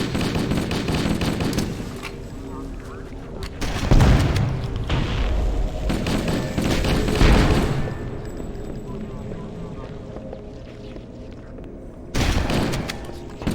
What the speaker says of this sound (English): grenades just aren't worth using against the flood unless they're frag